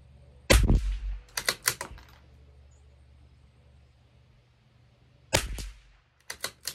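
A CZ 457 rimfire rifle fitted with an IBI barrel and firing RWS Special Match ammunition at a 50-yard range: two loud, close shots, each followed by quick clicks of bolt and action handling, with quieter gaps between.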